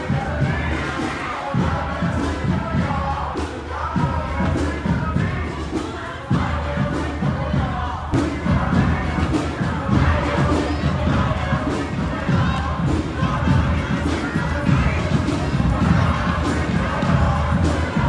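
A Black Lives Matter protest crowd near Portland State University, many voices shouting and chanting together in a dense, continuous roar that swells in places, with occasional thumps in the mix.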